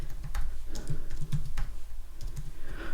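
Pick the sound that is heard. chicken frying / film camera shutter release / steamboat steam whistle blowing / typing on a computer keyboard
typing on a computer keyboard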